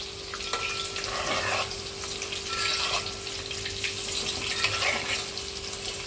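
Chicken pieces in a crisp coating fry in hot oil for chili chicken, giving a steady, moderately loud bubbling sizzle with no voices.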